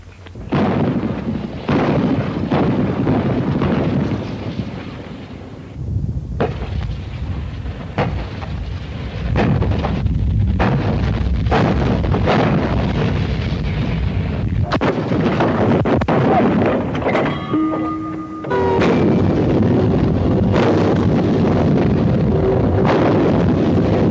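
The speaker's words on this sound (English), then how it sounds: "Artillery fire breaks" An Indian Army artillery barrage: heavy guns fire in a rapid series of loud, rumbling booms that overlap one another, with steady wind buffeting across the whole passage.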